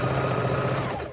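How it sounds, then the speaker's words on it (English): Domestic sewing machine running steadily as it back stitches to lock the seam on a half-square-triangle quilt block, a continuous close-up motor whir with rapid needle chatter that eases off at the very end. "back stitching to lock that"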